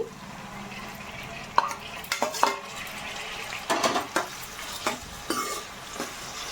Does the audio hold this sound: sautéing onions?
yes